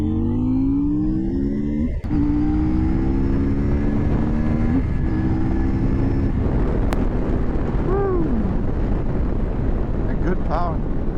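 CFMoto IBEX 800S adventure motorcycle from 2023 accelerating through the gears, its engine note climbing in steady harmonic sweeps over heavy wind rush. Loud and close, with gear changes breaking the rising pitch.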